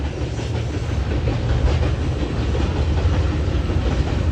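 A train rolls past close to a village house, a steady loud rumble with rhythmic wheel clatter running throughout.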